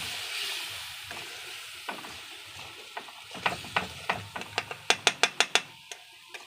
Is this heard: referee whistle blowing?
no